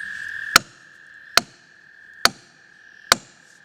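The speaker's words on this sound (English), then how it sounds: "If your saw does get stuck, you can open the kerf up with a wedge." A steel felling wedge is hammered into a saw kerf in a tree being felled: four sharp, evenly spaced strikes, close and loud, each ringing briefly over a steady high whine.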